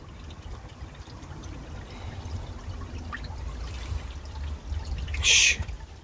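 Water pours and trickles steadily through a freshly cleared drain after rodding, a continuous gurgling flow heard close up, with a brief brighter splash near the end and no speech.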